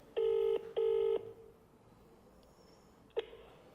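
Two long electronic telephone ring bursts sound close and clear, each about half a second, then after a pause a single short chirp follows. No one speaks over it.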